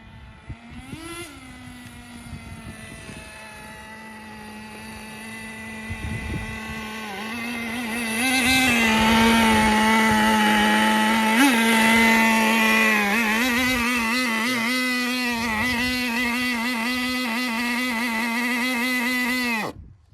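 A HotBodies Tornado RC car's small nitro engine runs steadily, its high buzzing whine holding a constant pitch before revving louder midway and cutting out abruptly at the end, close to the microphone with some wind noise.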